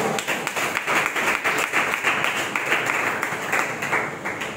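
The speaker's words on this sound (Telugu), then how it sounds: "చప్పట్లు కొట్టేసేమని కదా." A congregation at a Sunday worship service claps together in a steady, rhythmic beat, with loud, evenly spaced claps repeating throughout.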